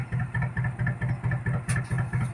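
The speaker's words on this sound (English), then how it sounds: "We've got a little tugboat coming past there." A small tugboat engine thuds past at a steady, rhythmic low pulse, moderately close and unchanging, with a brief sharp clatter partway through.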